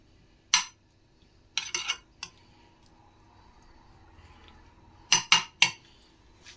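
A utensil clinks and scrapes against a dish while toad in the hole ingredients are stirred round, short clattering bursts separated by quiet pauses, close and fairly soft.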